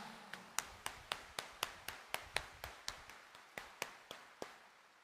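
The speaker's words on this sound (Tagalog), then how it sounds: "Itaas nga ang kamay at pumalakpak ng mas malakas." A church congregation at Quiapo claps in unison during a homily: about fifteen sharp, evenly spaced claps in a steady rhythm, moderately distant, with no talking over them.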